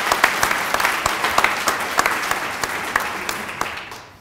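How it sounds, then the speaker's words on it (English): Applause for WSU from an audience at a Spokane event announcing a pediatric residency partnership, lively clapping with sharp individual claps standing out, tapering off toward the end. "how about a big round of applause for WSU"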